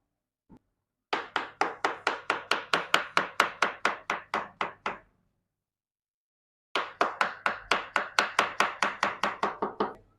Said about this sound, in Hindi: केले कटिंग करेंगे, इसमें शामिल करते जाएंगे साथ साथ